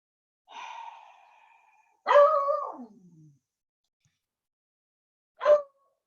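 Pet dog barking indoors in three separate bursts: a drawn-out whiny bark, a louder yelping bark that trails off, then a short sharp yip after a pause, all close and alone.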